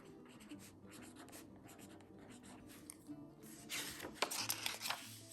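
Thin marker writing dates into a wide traveler's notebook planner, with quiet scratchy strokes in short bursts that grow louder and busier toward the end, heard up close.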